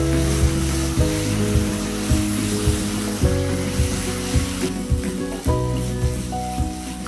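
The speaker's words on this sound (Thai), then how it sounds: "คั่วให้แห้งๆแบบนี้เลยนะครับ" Sauce being stir-fried dry in a hot pan, giving a steady dense sizzle with scraping and stirring knocks close by, with no talking over it.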